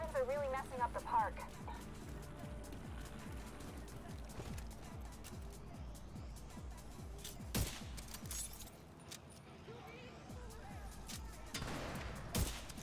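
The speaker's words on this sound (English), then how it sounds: "These explosions are really messing up the park." Explosions and gunfire in the video game The Division 2: scattered sharp bangs and blasts that are fairly faint and partly masked under a steady game soundscape, with a person talking.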